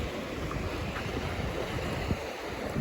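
Surf rolls in on a Gulf of Mexico beach at Perdido Key, Florida, a continuous wash of waves blended with steady wind rumble on the microphone and no speech.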